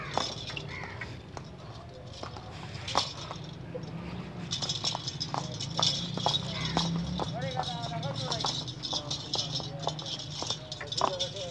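A trained horse's hooves clip-clop steadily and close by, the irregular knocks running under someone talking, with birds and pigeons cooing in the background.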